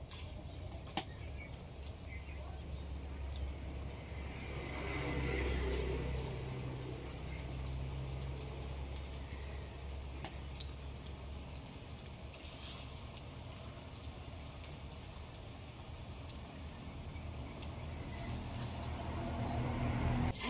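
Onion fritters made with gram-flour batter frying in hot oil, a soft continuous sizzle and bubbling hiss with faint crackles, steady and fairly quiet throughout.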